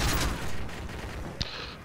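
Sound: explosion and gunfire in video game Call of Duty: Modern Warfare 3

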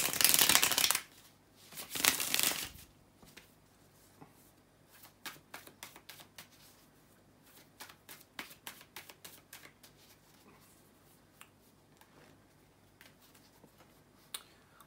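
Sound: shuffling tarot cards

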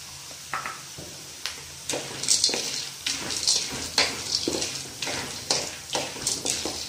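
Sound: peanuts and chickpeas frying in a pan

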